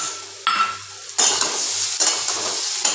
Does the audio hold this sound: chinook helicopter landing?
no